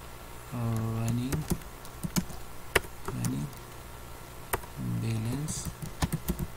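Computer keyboard keys clicking in quick scattered taps and short bursts, close and moderately loud, interleaved with someone speaking Hindi.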